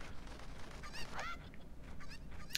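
Faint squawking clucks from a chicken in Zelda: Ocarina of Time, a few brief cries over a low background hum.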